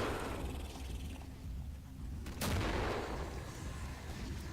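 Gunfire and a grenade blast in the Killing Floor video game, a low rumbling mix with a sharp burst partway through, set against constant background noise.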